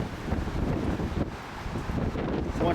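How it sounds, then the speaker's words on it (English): Outdoor wind buffets the microphone beside a running generator, producing a steady broadband rumble and roar that swells slightly throughout, with no one talking. "It's windy out here."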